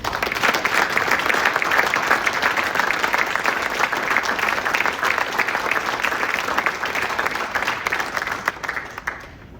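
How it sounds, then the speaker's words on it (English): Sustained audience applause at a distinguished service award ceremony, a dense steady wash of many hands clapping for about nine seconds before tapering slightly at the end. "I'd like us all to give these folks a round of applause for what they do."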